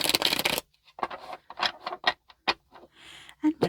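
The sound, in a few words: shuffling and cutting tarot cards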